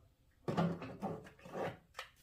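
A tool box drawer in a Snap-on tool chest slides open and shut, giving several soft, close wooden-sounding rumbles and knocks over about two seconds, with no talking.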